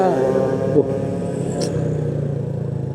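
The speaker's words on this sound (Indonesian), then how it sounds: "suara knalpotnya kenceng banget" Loud, steady exhaust drone from a Honda PCX 150 scooter riding along a road, a continuous close rumble with a voice talking over it.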